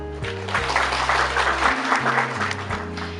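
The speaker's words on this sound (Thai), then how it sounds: "ขอเสียงปรบมือด้วยครับ" Audience applause at a Thai education fair, a steady wash of clapping held under sustained low musical tones throughout.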